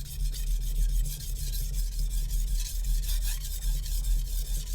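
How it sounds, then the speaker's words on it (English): A Shun chef knife is worked across a whetstone, giving a steady, close scraping rasp of steel on stone that continues without pause throughout. "when I am sharpening the tip of the knife, I like to go and really get the sides, the top and bottom sides of the whetstone"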